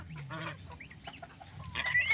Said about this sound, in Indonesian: apalagi angsa yang baru menetas